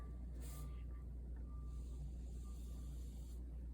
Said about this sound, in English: I apologize for the beeping. I don't know if you guys can hear that.